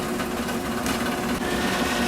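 Telescope mirror spinning in a grinding machine, a steady mechanical whir with a constant low hum and faint rattling, close and unchanging throughout.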